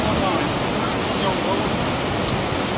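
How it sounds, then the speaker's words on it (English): Heavy river water pours and crashes onto a raft in a narrow canyon, a loud continuous roar of rushing, splashing water throughout. "An awful lot of water coming down onto the boat."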